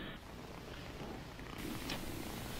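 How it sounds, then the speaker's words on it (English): A cat purrs softly at close range, a quiet, steady rumbling that continues evenly throughout. "hold the cat again."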